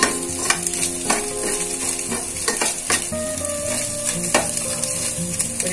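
Chopped carrots and beans stir-fry in a pan for egg fried rice, with a continuous loud sizzle broken by repeated sharp spatula scrapes and clinks against the metal.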